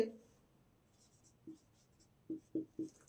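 Quiet, isolated writing strokes during a biology lesson, four short scratches separated by pauses, with the last three coming in quick succession near the end.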